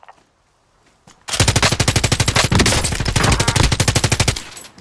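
Automatic gunfire in a Call of Duty match: after a quiet moment, a loud sustained rapid burst of machine-gun shots rattles for about three seconds, close and dominant.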